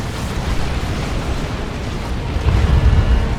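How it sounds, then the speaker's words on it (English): Stun bombs burst in a Dawn of War 2 3v3 battle, a loud rolling chain of booming explosions with a heavier thump near the end amid constant battle noise. "Stun bombs getting a good hit there"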